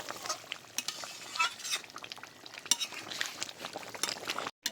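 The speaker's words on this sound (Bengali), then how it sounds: "একটু নেড়ে ছেড়ে নিচ্ছি।" A spoon stirs homemade country-chicken curry in a pot after garam masala goes in, giving a soft, continuous scraping with a light sizzle and occasional utensil taps, fairly quiet and without talk.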